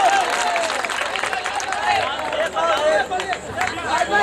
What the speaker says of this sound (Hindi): एक बार आगे सबकी जब जोरदार तालियां बजाकर आप इस्तेमाल करें